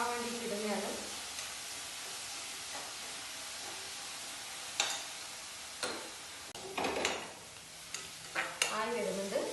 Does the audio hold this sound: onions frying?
yes